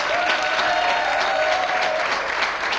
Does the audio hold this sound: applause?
yes